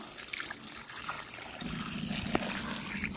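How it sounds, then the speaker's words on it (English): Water splashes and runs steadily from a tap, growing louder as the flow strengthens, with occasional clinks and sloshing as lobster is rinsed, in a backyard. "we just are gonna run some water for my lobster them clean up and wash"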